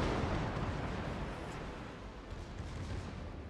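Secondary guns on a Tier IX German cruiser, the Ägir, fire in World of Warships as a dense, continuous rumble of booming blasts that is loudest at the start and eases off slightly.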